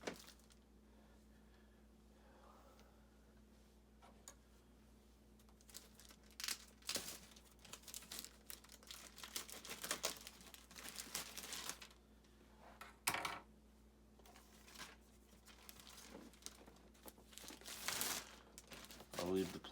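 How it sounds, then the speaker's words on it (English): Plastic wrapping crinkles and tears as it is pulled off an Erik Killmonger figure, faint at first, then scattered rustling bursts, with quiet talk in the background. "So let's get this plastic off, which should be pretty easy."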